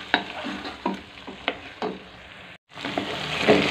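Chicken pieces fry with already browned onions in a pan, a sizzle broken by several sharp stirring scrapes at a regular pace, with a short pause before the frying noise returns.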